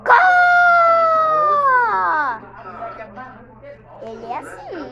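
A person's voice imitates a rooster crowing with one long, loud, drawn-out call that falls away, followed by quieter talking.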